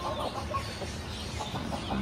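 A Silky hen breathes in quick, soft, raspy pants close by, with faint clucky sounds under the steady whir of a nearby fan.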